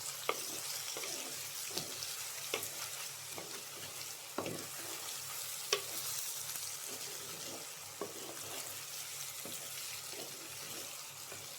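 Spice powders fry in oil over okra, drumstick and raw mango pieces for a curry, giving a steady close sizzle with scattered clicks and light stirring scrapes throughout, no voices.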